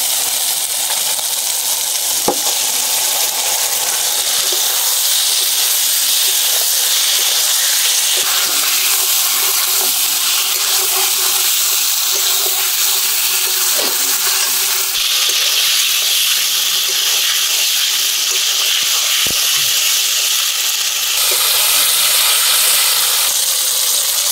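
Marinated chicken goes into hot masala in a pan for a chicken curry and sets off a loud, continuous hissing sizzle that lasts throughout, with a few faint clinks and no talk.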